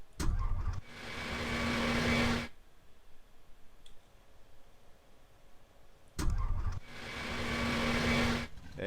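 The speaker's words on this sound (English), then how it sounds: "There we go, and we are up and running. There's the engine going. Beautiful, nice jumbo engine." The Junkers Ju-87 Stuka's engine starts up in the FSX flight simulator with two loud bursts of starter and engine noise separated by a quieter stretch of ticking and clicking, no talking.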